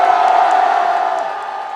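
A large crowd at an outdoor political rally in Yeouido cheers and shouts together in a loud, sustained roar that swells briefly and then slowly fades over under two seconds.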